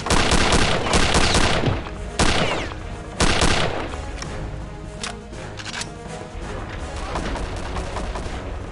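Heavy gunfire in Return to Castle Wolfenstein: dense bursts of shots and rapid automatic fire, loud and close, with a few slightly quieter gaps and then more shooting toward the end.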